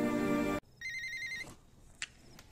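A telephone ringing: a loud, tonal ring that stops abruptly, followed by a few faint beeps and clicks in near silence.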